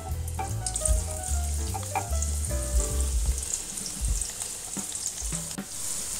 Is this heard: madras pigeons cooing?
no